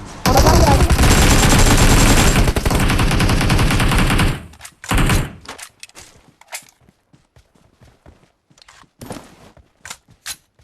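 Gunfire in PUBG Mobile around Pochinki on Erangel: a dense, loud automatic burst for about four seconds, then scattered single shots and short bursts separated by quiet gaps.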